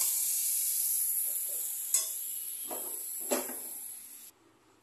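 Pickle frying in oil in a pan on a gas stove, a steady bright sizzle with a few clinks and scrapes from stirring, before the sizzle cuts off abruptly.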